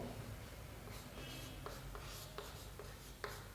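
Chalk or a marker writes on a board during a class 11 physics lecture on gravitation. The scratchy strokes are faint and come in short bursts over a quiet room hiss.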